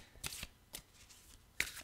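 Tarot cards are shuffled and handled, giving several quick, crisp papery riffles and flicks close to the microphone in a quiet room, with no talking.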